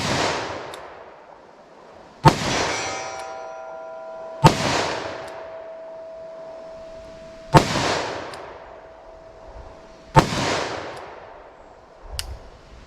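Five sharp shots from a snub-nose revolver firing hand loads in single action at steel targets 75 yards away, spaced a few seconds apart, each followed by a decaying report, with a thin metallic ring lingering after some.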